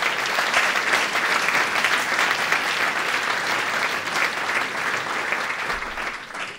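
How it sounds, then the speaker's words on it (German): Audience at a school ceremony for the handover of keys after the renovation of HTL Villach applauds the education minister, with steady, dense clapping held at an even level throughout, without speech. "Bitte einen großen Applaus für Bildungsminister Dr."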